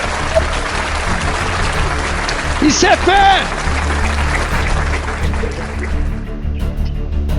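A church congregation claps under a steady wash of sound, with a preacher's voice rising over it midway before the noise thins out toward the end.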